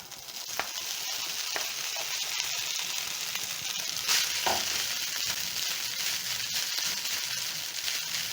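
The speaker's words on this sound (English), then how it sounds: "My garlic is golden brown, so I'm going to add in my rice." Rice sizzles steadily in hot oil with golden-brown garlic in a pan, a constant close frying hiss broken by a few scrapes and knocks as it is stirred.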